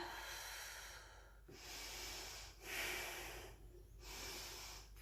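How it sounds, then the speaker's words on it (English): Slow, deep breaths during a yogalates side stretch, about four long airy inhales and exhales close to the microphone, rising and falling in a steady rhythm with no talking. "Breathe lovely and deep."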